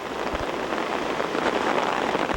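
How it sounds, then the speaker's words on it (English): Dense, steady hiss of heavy rain pouring down on a river between two rapids during a rafting trip, loud and continuous with no voices. "the rain starts pouring down on us"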